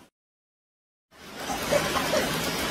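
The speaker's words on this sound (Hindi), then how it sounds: "अभी बरसात गिर रही है बहुत दबा के" Heavy rain pouring down in a city, a dense steady hiss that starts abruptly after a moment of silence and continues loud and unbroken.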